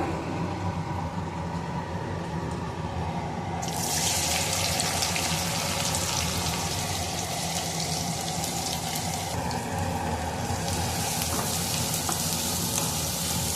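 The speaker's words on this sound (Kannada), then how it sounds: "ಈರುಳ್ಳಿ ಎಲ್ಲ ಸೇರಿಸ್ಕೊಂಡು ಇದನ್ನು ಫ್ರೈ ಮಾಡ್ಕೊತಾ ಇದ್ದೀನಿ" Chopped onions frying in melted ghee for a mint mutton fry, a loud, continuous sizzle that swells and brightens a few seconds in, then holds steady close by with no talking.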